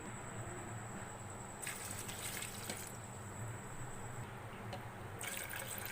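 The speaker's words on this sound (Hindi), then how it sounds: "और इसमें शामिल करेंगे 2 गिलास पानी।" Two glasses of water poured into a falsa berry soda drink, a steady splashing flow with a few louder gushes, close and moderately quiet, without talking.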